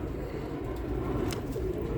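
Birmingham Roller pigeons coo low and steadily in a loft, a soft continuous murmur of several birds with a faint rumble behind and a brief higher chirp partway through.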